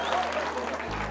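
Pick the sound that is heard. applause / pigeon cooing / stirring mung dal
applause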